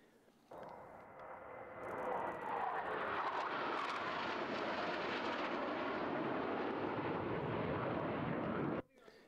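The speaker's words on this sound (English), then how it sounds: "you may have heard the loud roaring sounds of jet engines coming from the air show" Loud, continuous roar of jet aircraft engines at an air show, swelling in and holding steady for several seconds before cutting off abruptly.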